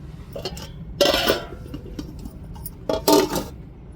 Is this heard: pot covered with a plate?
yes